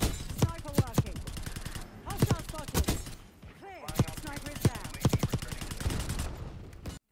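AK-74 rifle fire in a video game crackles in rapid bursts of sharp shots, several volleys separated by brief pauses, loud and close.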